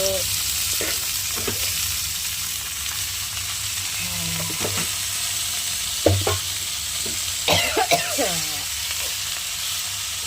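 Leafy greens go into a pan of fried spices, setting off a steady hiss of frying with occasional scrapes and clatters of stirring, moderately loud and without speech.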